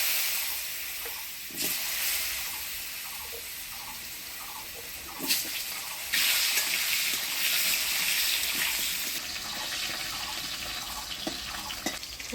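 Potatoes being stirred in hot tempered oil with whole cumin for a village-style katla fish curry, a soft continuous sizzle with scraping stirs, quiet and steady without speech.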